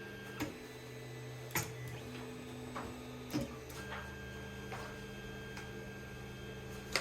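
A 3D printer auto-homing its axes, stepper motors whining in steady tones that shift pitch between moves, punctuated by several soft clicks and a final tick, faint and alone over low hum.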